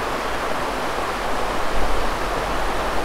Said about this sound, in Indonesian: Ini sungai banjir lokal ya dulur ya.